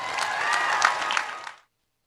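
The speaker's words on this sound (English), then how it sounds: "We should all give ourselves a round of applause as well." Audience applause at a gathering, a short burst of clapping that swells briefly and then cuts off abruptly after about a second and a half, followed by silence.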